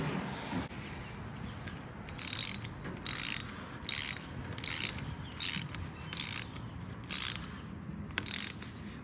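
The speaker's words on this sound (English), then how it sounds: "now we've got to tighten these bad boys, lock in the anchors, and then hope they line up" Anchor bolts are tightened with a ratchet during a car wash remodel, giving about nine short bursts of close, loud ratcheting clicks in an even rhythm with brief pauses between them.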